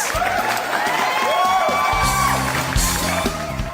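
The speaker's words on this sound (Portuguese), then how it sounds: "Palmas!" Audience at a live talk show cheering and whooping, with shouts and scattered clapping over background music, loud and close throughout the few seconds.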